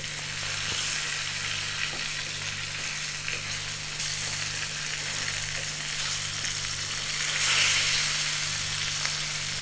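Climbing perch fish fry in a pan of hot oil with a steady, dense sizzle and faint crackles, close and continuous for several seconds, with no talk.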